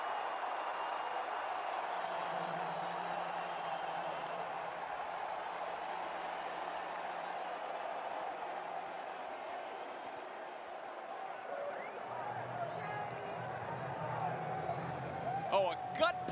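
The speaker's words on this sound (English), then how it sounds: "it just electrified the crowd here, really ignited the Vikings fans" Vikings fans in a stadium crowd at an NFL game against the Saints, a steady loud roar of cheering throughout, swelling near the end with whistles and shouts.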